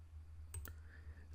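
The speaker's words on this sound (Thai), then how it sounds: "ให้เรา คลิกหนึ่งครั้งในจุดที่ต้องการเริ่มต้นสร้างเส้น" A computer mouse is clicked once while drawing with the line tool in SketchUp, giving a quiet, crisp press-and-release tick in an otherwise hushed room.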